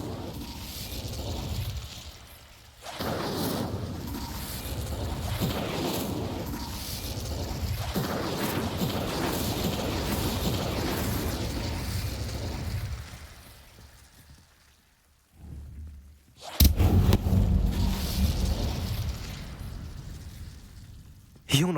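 Incendio fire spell cast in the Hogwarts Legacy video game, heard as rushing, crackling bursts with a short pause and then a loud, sudden blast near the end, with some voice activity around it.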